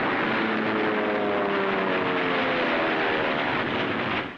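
Propeller-driven military aircraft engine roaring steadily during the WWII bombing of Tarawa, a loud continuous drone with shifting harmonics that fades slightly at the end.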